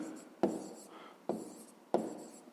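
Chalk or pen strokes on a board while working a 5th-grade maths exercise, three sharp scratching strokes spaced about a second apart, close and fairly quiet, no voices.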